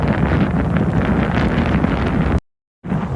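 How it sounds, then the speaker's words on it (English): Strong typhoon wind in Tokyo roars and buffets the microphone in a loud, steady rush, cutting to silence briefly before the gusting resumes. "it is windy on the other side of the building"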